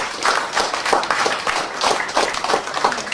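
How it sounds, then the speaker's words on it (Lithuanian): Wedding guests break into loud, enthusiastic applause, a crowd of hands clapping in a thick, continuous burst that swells and holds throughout, close and lively. "audringi plojimai gerbiami, labai audringi"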